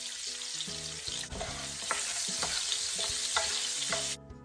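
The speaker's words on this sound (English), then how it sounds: "And now we're just going to add our chopped onion to the oil that we fried up our steak in." Chopped onion sizzles in the oil left from frying steak, a bright steady hiss with scattered pops and stirring clicks, close and continuous for a few seconds before dropping away sharply.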